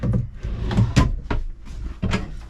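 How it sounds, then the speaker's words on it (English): A pull-out storage drawer in a 2024 Lance 975 dry bath truck camper slides and knocks in a few quick, close wooden bumps and clunks over a low background rumble. "pull out drawer"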